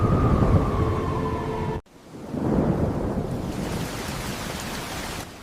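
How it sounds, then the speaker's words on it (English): Heavy rain pouring down in a children's animated story, a loud, dense hiss of rainfall with a rumbling edge, briefly cutting out before swelling back and continuing steadily. "Heavy rain began to pour"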